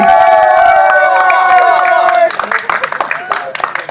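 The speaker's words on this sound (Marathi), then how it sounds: "अरे सगळे जल्लोष आहे" Family members cheer and shout together at a home kite-flying contest, a loud burst of overlapping voices and claps after a sustained tone, with excited talking throughout.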